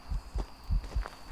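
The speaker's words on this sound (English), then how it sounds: "You can hear footsteps." Ghost footsteps in Phasmophobia come as a run of dull low thuds in an even walking rhythm, about five or six steps in just over a second, muffled and moderately near with no talk.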